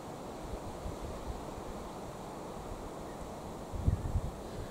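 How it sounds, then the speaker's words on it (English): Wind gusts across an open grassy field, a steady broadband roar with buffeting on the microphone that swells slightly toward the end. "Listen to that wind."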